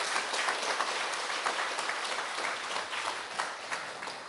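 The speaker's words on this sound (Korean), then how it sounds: "두 분께 열띤 응원의 박수를 부탁드립니다" An audience at an academic conference session applauds two presenters, producing a dense, steady burst of clapping from many hands that lasts several seconds.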